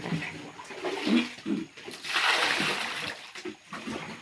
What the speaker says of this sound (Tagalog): Ito na ang Sapa namin.